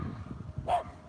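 A neighbor's little dog gives a single short, faint bark in the background over low room noise.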